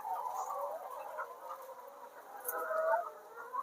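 A chicken on a poultry farm gives soft, throaty clucks and murmurs at close range, continuous and fairly quiet, with a slightly louder call near the end.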